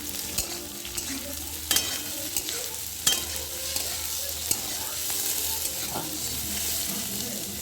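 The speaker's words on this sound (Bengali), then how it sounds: "বিনসটা হালকা ভাজা হয়ে গেল, এখন দিয়ে দিচ্ছি আমি ক্যাপসিকাম কুচিটা" Green beans, chopped capsicum and onion frying in a pan, with a loud steady sizzle and repeated spatula scrapes and knocks against the pan, no voice over it.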